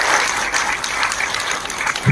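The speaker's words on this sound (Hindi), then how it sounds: "तालियों की जोरदार गड़गड़ाहट के साथ ऐसे सभी लोगों को स्वागत करें" Loud, dense audience applause fills a university hall in Hisar, Haryana, during a formal commemorative programme, continuous hand clapping for about two seconds.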